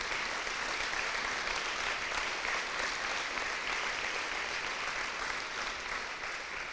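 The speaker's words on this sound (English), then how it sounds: "Let's give them a round of applause." A crowd at a school fall activities awards night applauds the coaches, a steady, even wash of clapping from a large audience heard at moderate distance without pause.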